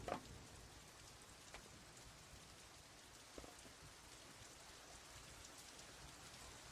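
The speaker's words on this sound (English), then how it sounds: "That's a lot of rain." Heavy rain falls in a steady, dense hiss of drops on surfaces, faint and even throughout, with a couple of soft knocks and no voices.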